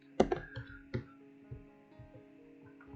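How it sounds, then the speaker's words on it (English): Keys clicking on a computer keyboard as someone types a search phrase, producing a few sharp taps and then sparse, irregular clicks, close and fairly quiet with no talking. "sorry if I'm typing wrong spelling"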